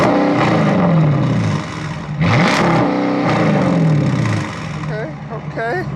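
Nissan G37 or 370Z engine revving in loud rising and falling sweeps, with a sharp blip near the middle, heard close up while people talk over it.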